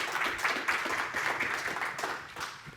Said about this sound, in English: let's give a warm round of applause for Brett